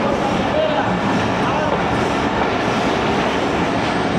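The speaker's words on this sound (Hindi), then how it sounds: "जहांगीरा रोड रेलवे स्टेशन पहुंची है ट्रेन" Awam Express passenger train pulling into Jahangira Road station at night, a steady loud rumble of rolling coaches with clattering wheels filling the scene, and voices faintly mixed in.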